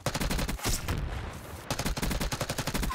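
Many gunshots in a video game, rapid rattling bursts of fire in two loud volleys separated by a brief lull.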